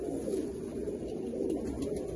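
A desi-breed pigeon coos softly nearby, a low throaty murmur that runs through the brief moment without any talking.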